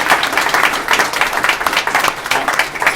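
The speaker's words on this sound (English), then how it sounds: "Can we just give Kate a round of applause?" Audience applause at a health hackathon launch event, a loud close round of clapping with an uneven, pulsing texture throughout the few seconds.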